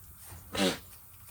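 A single short sneeze bursts out close by, loud and sudden against a quiet background.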